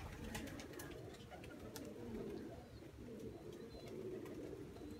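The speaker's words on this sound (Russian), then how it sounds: "Я имею в виду бойных голубей." Pigeons cooing steadily at moderate distance, soft low throaty calls repeating in overlapping rhythm, with occasional faint chirps and light rustling behind.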